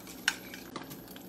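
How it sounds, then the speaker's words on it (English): Eggs frying in a pan while kimbap is made, a steady soft sizzle with a couple of sharp utensil clinks over it. "That sound is good, but I want more, so I'm gonna wait a little more. See the sizzling?"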